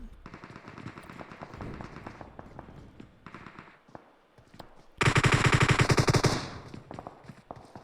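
Rapid bursts of automatic gunfire from both teams in a PUBG match on the Erangel map crackle in clustered volleys, building to a loud sustained barrage near the end.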